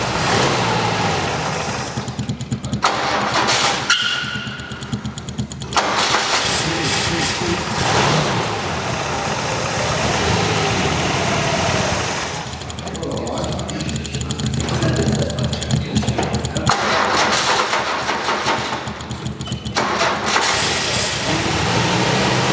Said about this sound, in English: Remember, this is the first time the engine was turned on since 1994